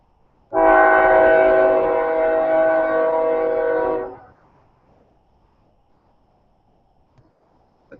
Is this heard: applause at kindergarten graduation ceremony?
no